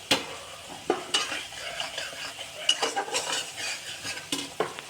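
Ginger garlic paste fries in oil with a quiet crackling sizzle while a spoon scrapes and clinks against the pan in short, irregular bursts, heard up close without speech.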